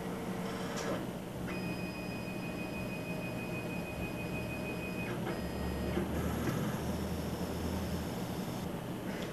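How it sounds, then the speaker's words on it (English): A QC20 hose measuring machine repositions its V-block and probes automatically, giving a steady whirring motor tone with a thin high whine that holds for a few seconds, then stops, over constant background hum. "the V-block and probes automatically move to the exact positions required for the"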